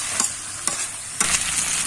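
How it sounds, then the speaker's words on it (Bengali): Chicken and fried potatoes are stirred in a sizzling pan for a Bengali chicken jhol: three or four distinct scraping strokes over a soft, steady fry. "ভেজে রাখা আলুটা দিয়ে দিই। এটা দিয়ে আরেকটু নেড়ে চেড়ে"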